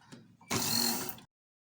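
A sewing machine stitching fabric for traditional iro and buba in a short close burst of rapid mechanical whirring lasting under a second, preceded by faint soft clicks and followed by silence.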